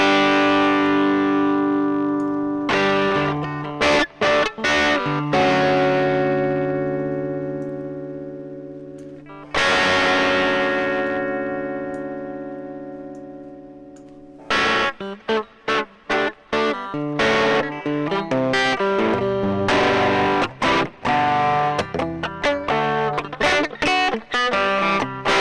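Electric guitar through an amp with the Airwindows Cabs cabinet plugin, distorted chords and choppy riffs with short stabs and ringing sustained passages, played alone.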